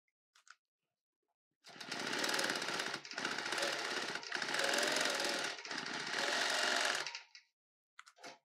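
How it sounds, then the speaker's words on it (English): A quilting machine stitches a pattern in three rapid rattling runs with short pauses between, close and fairly loud, preceded and followed by quiet clicks. "turn on that stitching and go ahead to start stitching"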